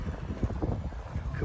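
Light wind gusting steadily across the microphone at an outdoor Saturday flea market on a cool, overcast day, a low continuous rumble that fills the whole clip.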